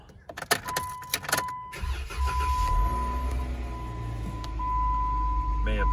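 A Jeep, Dodge or Chrysler engine cranks and catches, followed by a steady low idle with a high electronic tone running through, heard up close inside the car after some brief clicks and handling noises.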